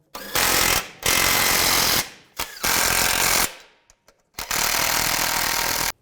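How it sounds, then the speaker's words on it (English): Bursts of a pneumatic impact wrench tightening nuts on a radiator bracket of a 2006-2011 Cadillac DTS, in loud close rattling runs of about one second each, separated by short pauses, with no talk. "And tighten the nuts down."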